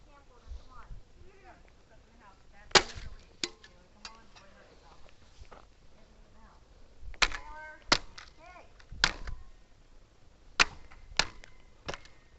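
Sharp, loud blows strike an old camcorder being smashed apart, landing as isolated cracks and clustered hits spread across the stretch, with quiet talk and background murmur between impacts.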